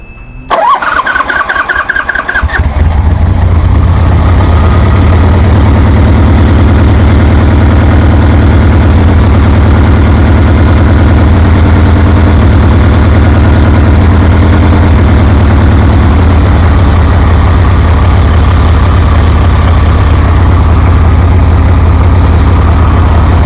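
A 1973 Harley Sportster with CV40 carburetors cranks and fires after a brief starter whine, then settles into a loud, steady, throbbing idle on choke that continues unbroken to the end.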